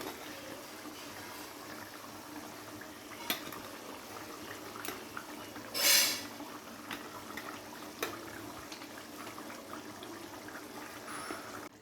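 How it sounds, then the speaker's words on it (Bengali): Pieces of rui fish go into a simmering poppy-seed gravy: soft, steady bubbling with faint clinks and one brief watery splash midway. "গ্রেভিটা ফুটে উঠেছে, এবারে এক এক করে গ্রেভির মধ্যে কিন্তু আমি মাছগুলো দিয়ে দেবো"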